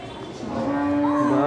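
A Qurbani sacrificial cow lets out a single long, loud moo that rises and swells up close. Faint background murmur runs underneath.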